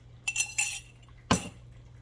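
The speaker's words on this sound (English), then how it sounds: "Give that a little bit of stir." A spoon clinks against a pot while a one-pot chicken casserole made with canned chicken is stirred, giving two or three light metallic taps close by in a quiet kitchen.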